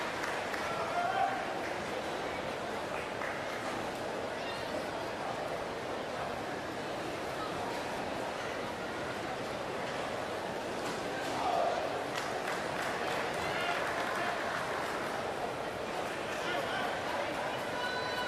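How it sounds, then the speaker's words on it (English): A packed sellout crowd at the South Paris Arena roars as a steady wash of noise after Belgium wins a para table tennis standing doubles match, with a commentator talking over it throughout. "in front of this packed sellout crowd"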